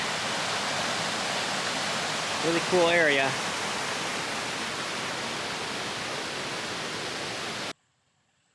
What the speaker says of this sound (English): passing by a neat little waterfalls area